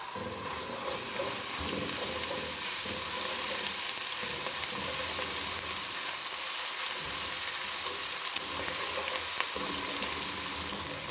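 Steady, dense sizzling of ginger garlic paste frying in hot oil, with occasional soft stirring scrapes, continuous and close throughout.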